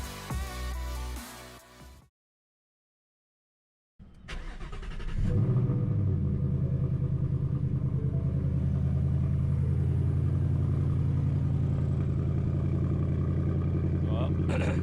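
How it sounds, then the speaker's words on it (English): Cold start of a 2018 Ford Mustang GT with the 5.0 V8, heard as a sharp crank and catch after a brief silence, then a loud, close, steady deep idle rumble that continues to the end. "there it is, the final cold start of the Mustang"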